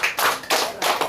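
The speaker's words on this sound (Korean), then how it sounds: "박수 한번 칩시다" A church congregation clapping hands together in unison, three quick bursts of clapping in an even rhythm, close and fairly loud.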